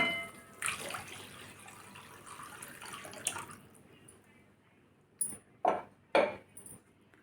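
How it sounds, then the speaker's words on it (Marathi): Water is poured from a mixer jar into a pan of masala for shev bhaji, giving a soft splashing pour followed by three short, louder gushes near the end in a quiet kitchen. "परत पाणी टाकूया"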